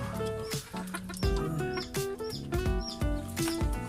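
Several chickens cluck and squawk close by in steel-screened coops, a busy, overlapping chorus of short, rapid calls.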